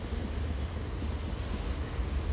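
CSX freight train rolling past on the tracks, a steady heavy rumble of wheels and cars, close and continuous with no talk.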